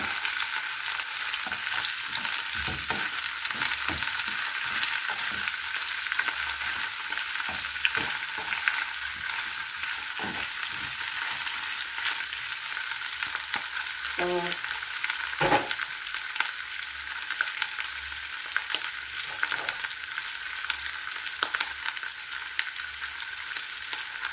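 Chicken pieces fry in a pan, giving a steady broadband sizzle with no speech, occasionally broken by short stirring clatters.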